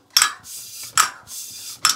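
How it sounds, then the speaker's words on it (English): Bicycle wheel spokes creak and ping as they settle into the spoke holes of a new rim under hand pressure, three crisp metallic ticks spaced evenly, close and clear with no voices. "that noise is the spokes settling down into the spoke holes in the rim"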